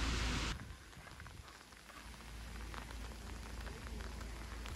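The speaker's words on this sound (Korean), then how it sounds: "비 오는 날도 뭔가 운치가 있네" Rain falling on a rainy day on Jeju Island, a steady fine hiss of drops after a brief louder burst at the start, with no one talking.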